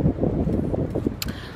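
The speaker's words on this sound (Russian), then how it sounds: "Сейчас у нас ужасный ветер, может быть, плохо даже слышно." Heavy wind buffets the microphone in a continuous low rumble at a resort in Turkey, with brief gusty surges and a short sharp noise near the end.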